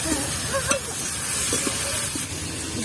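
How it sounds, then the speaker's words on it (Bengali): Carrots frying in a pan for fried rice in a home kitchen, a steady close sizzle with a few soft stirring scrapes and clicks throughout. "আর যেহেতু গাজর ভাজতে সব থেকে বেশি টাইম লাগে, তো তার জন্য আমি আগে গাজরটাই ভেজে নিচ্ছি।"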